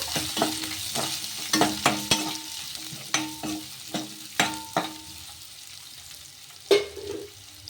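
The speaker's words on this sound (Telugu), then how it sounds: "ఇలా ఆనియన్స్ వేసుకొని ఒకసారి బాగా కలిపేసుకుందాము." Sliced onions fry in a pan with mustard seeds while a spoon stirs them in sharp, irregular scrapes and knocks against the pan over a soft sizzle, close up and with no voices.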